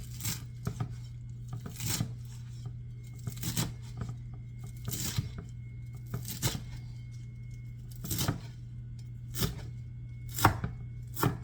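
A knife thumps on a cutting board while meat is finely chopped for chaurice sausage, about a dozen sharp, irregular strikes spread over the stretch against a low steady hum, with no voices.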